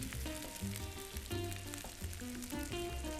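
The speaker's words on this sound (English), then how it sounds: "And now we're going to let this actually fry a little bit" Shrimp fried rice fries in a pan with a steady, close sizzle running under prominent background music.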